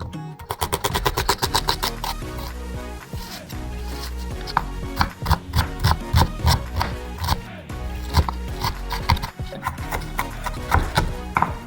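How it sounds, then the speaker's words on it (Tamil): A knife chops a medium onion finely on a board, a long run of fast, sharp, evenly spaced taps, loud and close, with short pauses between bursts and no talking. "ஃபஸ்ட்டு ஆனியனை வந்து நல்லா பொடி பொடியாக நறுக்கிடுவோம்."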